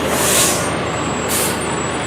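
Air brakes hiss loudly from a Pottersville Fire Department fire truck rolling in a small-town parade, two bright bursts of release riding over a steady rumbling engine close by.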